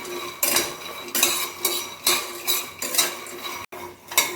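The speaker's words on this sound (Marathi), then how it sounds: "एकसारखे हलवून भाजायचे" A utensil scrapes and clinks against a metal pan in regular strokes, about two per second, as something is stirred and roasted; no speech.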